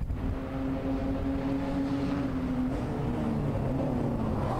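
SpecE30 race cars run close together on a NASA California Crown circuit, engines droning in a steady, moderately distant roar with slowly sliding pitch as they pass.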